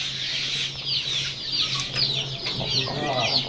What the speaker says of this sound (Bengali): এখানে টাইগার মুরগি রয়েছে দেখেন টাইগার মুরগি